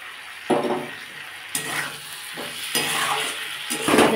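A cooked-down spice paste with soaked mustard is stirred in a pan, the spoon scraping and knocking in a few separate bursts over a low, continuous sizzle.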